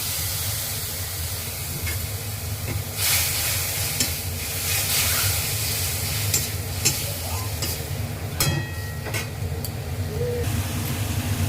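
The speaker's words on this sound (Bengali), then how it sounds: "এবার আমি কড়াইতে একটা তেজপাতা আর সামান্য সাদা জিরে দিয়ে যে মশলাটা আমি বানিয়ে রেখেছি ওই মশলাটা" A bay leaf, white cumin and a prepared spice paste fry in a kadai, giving a continuous sizzle with intermittent stirring scrapes and clinks, fairly loud and close, with no talking.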